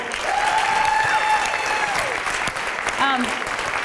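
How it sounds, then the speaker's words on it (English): Applause from an audience at a women-in-trucking awards salute fills the room steadily throughout, with a voice briefly speaking over the clapping. "how about a round of applause?"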